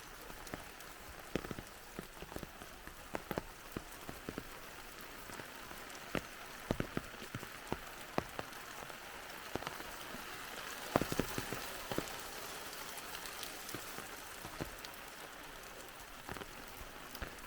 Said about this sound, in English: It's nice to walk in the rain